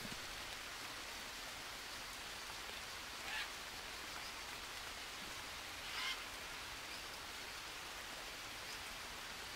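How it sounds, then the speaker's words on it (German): Heavy rain in the video game Green Hell hisses evenly throughout, a dense broadband wash with no voices, broken only by two brief brighter splashes. "Regnet wie Sau hier gerade."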